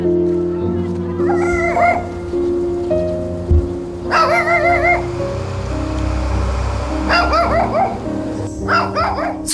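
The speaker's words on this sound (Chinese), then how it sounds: "错落的狗吠声似乎极力想掩饰着他难以言喻的孤寂。" Scattered dogs bark in a mountain town at the foot of the Taihang range, a few separate bursts of barking at middle distance over a low background hum, with soft music underneath.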